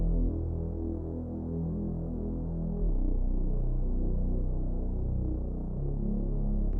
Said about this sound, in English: So just the Reese bass by itself.